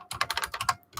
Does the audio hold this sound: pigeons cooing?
no